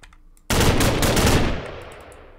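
Sustained burst of automatic gunfire in a Minecraft map set in the 1990s, starting abruptly after a quiet lead-in, loud and close, rattling for about a second before tailing off into a fading echo.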